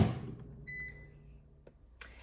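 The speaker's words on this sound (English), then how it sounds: "I am actually going to put this bagel sandwich in my air fryer for like a minute" A countertop appliance heating a bagel breakfast sandwich hums low and steady, gives a short electronic beep, then a faint click and a brief bump near the end, with no voices.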